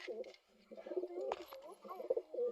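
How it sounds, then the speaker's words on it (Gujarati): Pigeons in a loft coo softly in repeated low, rolling calls with a few short chirps, heard close by, while a person speaks over them in places. "બાકી બધા આ રહ્યા આપણા કબૂતર"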